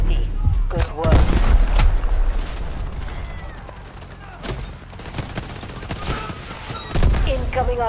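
Heavy battlefield fire in Delta Force, a constant roar of gunshots and booming artillery blasts layered together, loud and close, with bigger explosive swells rising above the steady din.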